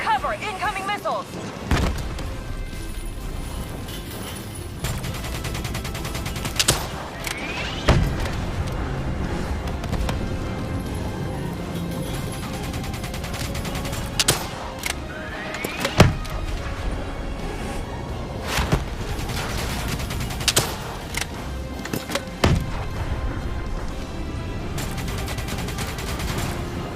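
Missile explosions and rattling gunfire in the video game Call of Duty Black Ops 3, with repeated heavy booms and bursts of shots over dense battle noise, under shouting voices.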